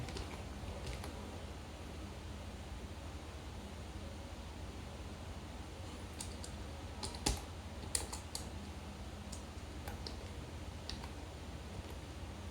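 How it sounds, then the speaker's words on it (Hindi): A GST number being entered on a computer keyboard, with soft, faint key clicks coming in scattered bursts over a steady background hiss, a few sharper taps standing out toward the middle. "इसके बाद में जो अगले डिजिट आएंगे वो इसमें टाइप कर देता हूँ यहाँ पे"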